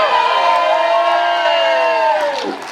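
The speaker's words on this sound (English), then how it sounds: "I hope you can hear the crowd there" A large outdoor crowd at a Free Julian Assange rally cheers and shouts loudly and continuously, with raised voices and whoops filling the space before easing slightly at the end.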